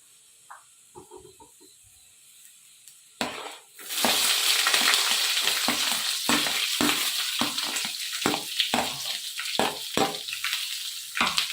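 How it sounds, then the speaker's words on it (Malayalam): Sliced onions and green chillies, added to curry leaves in hot oil, hit the pan with a loud sudden sizzle after a quiet start, then keep up a steady frying hiss broken by repeated scraping stirs. "നന്നായിട്ടൊന്ന് വഴന്ന് വരട്ടെ."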